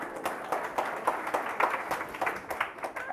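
Audience clapping at an economics lecture on the Economic Survey, a dense, steady patter of many hands filling the hall at moderate volume, with no voices over it.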